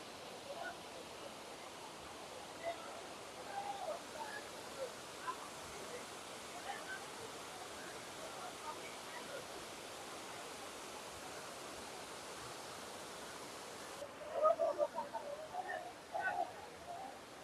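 Spring water at the Bato Spring resort in San Pablo, Laguna, a steady rushing flow that runs without a break, with faint voices of a weekend crowd and a brief louder burst of activity near the end.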